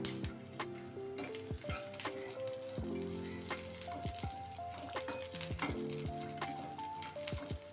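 Garlic and green chillies sautéing in a hot pan for a Maharashtrian thecha, a soft continuous sizzle broken by frequent ticks and scrapes of a spoon stirring, close and steady with no voices.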